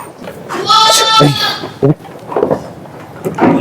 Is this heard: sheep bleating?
yes